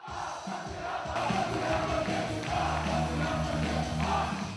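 A large crowd of soldiers roars, cheers and applauds continuously, loud and enthusiastic, at a girl group performance during a military Buddhist service, with strong amplified music thumping underneath throughout.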